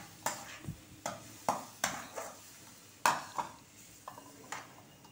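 Spoon or ladle knocks against a pot while tempering with peanuts, green chilli, garlic and cumin for cucumber chutney, a series of sharp, close clinks and taps at irregular intervals over faint background.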